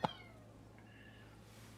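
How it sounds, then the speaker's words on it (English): A kitten gives a single short, high meow right at the start, fairly faint and close, followed by a quiet steady background hum. "Uh-oh. Baby kitten."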